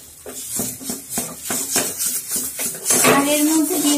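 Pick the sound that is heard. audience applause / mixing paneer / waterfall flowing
mixing paneer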